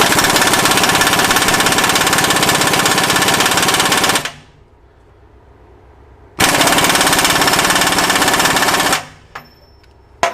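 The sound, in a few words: Myers MTS53371 pneumatic air impact wrench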